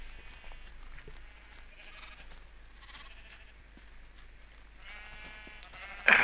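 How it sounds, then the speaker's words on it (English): Several sheep bleat in Minecraft, short repeated wavering calls coming one after another at moderate loudness, with a sharp louder click or blip right at the end. "there are too many sheep."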